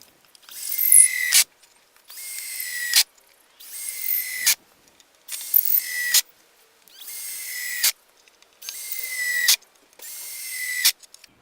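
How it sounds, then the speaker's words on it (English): A power drill drives screws into timber while deck stairs are built, seven bursts of rising whine in a steady rhythm, each ending abruptly with short quiet gaps between, close and loud with no talking. "Obviously impact driver would be better, but I can't use this drill bit in that impact driver."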